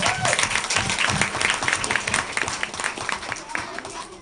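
An audience at a township council meeting claps and cheers continuously, a dense, loud wash of applause that carries through the whole stretch and fades only slightly at the end.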